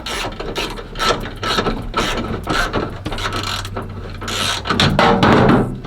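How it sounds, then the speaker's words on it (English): Ratcheting clicks and metallic mechanism rattles from a wrench tightening a bolt on the window motor bracket inside a car door of an Oldsmobile Cutlass, continuous and close with a brief louder burst near the end. "Tighten up this next one."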